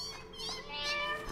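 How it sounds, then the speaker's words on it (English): Cats meowing in the video game Satisfactory, heard in a cave as a short run of high, wavering cries that overlap one another at moderate loudness, with no talk over them. "There's evil cats in this cave!"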